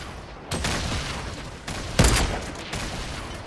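Gunfire and grenade blasts in the video game Fortnite, a sustained burst of shots with a heavy boom near the two-second mark, loud and close with no talking.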